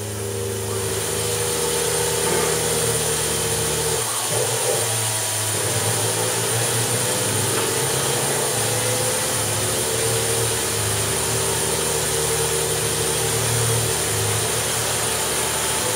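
A blowtorch roars steadily on low, broad heat while titanium knife handles are heated for blue heat anodizing, a constant close, loud rushing hiss with a brief dip partway through.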